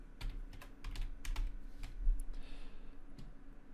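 Typing on a computer keyboard while entering text into an online store's page editor, with quick irregular bursts of close, crisp keystrokes and short pauses between them, and no talking.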